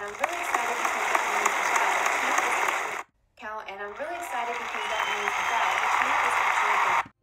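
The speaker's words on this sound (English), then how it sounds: "Let's try a few applause sounds to see if they fit with this video clip." A stock applause sound effect from iMovie plays as crowd clapping under a talking voice, cutting out briefly midway before the clapping returns.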